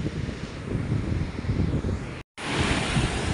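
Ocean waves washing onto a shore after a recent storm, a steady loud wash of surf with wind noise buffeting the microphone, briefly cut out midway.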